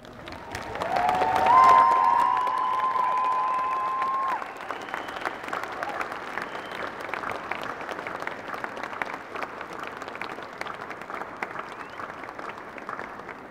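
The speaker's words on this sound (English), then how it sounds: "give them a rousing round of applause" At a 2018 university graduation ceremony for the School of Business, Law and Communications, graduates stand and give their families a rousing round of applause, loud sustained clapping with some cheering that swells early, then settles into steady clapping across a large hall.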